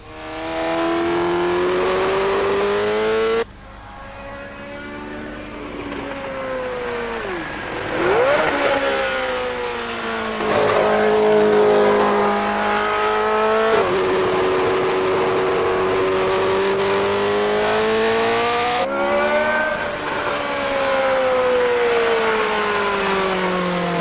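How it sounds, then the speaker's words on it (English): A Formula One McLaren race car driven by John Watson roars past under sustained engine note, its pitch rising and falling through gear changes and revs, loud and steady for a long stretch. "John Watson and the Formula One McLaren"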